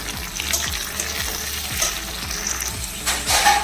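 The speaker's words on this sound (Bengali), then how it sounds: "এবার এগুলোকে লাল লাল করে ভেজে নেব।" Onions and shrimp fry in a pan with a steady sizzle, overlaid by repeated stirring scrapes in a loose rhythm, close and fairly loud.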